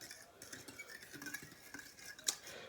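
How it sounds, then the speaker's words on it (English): A spoon stirs pretzel dough mixture in a bowl, giving soft continuous scraping and light clinks against the sides, close and quiet, with one brighter clink near the end. "Just keep on, you know, stirring it and stirring it"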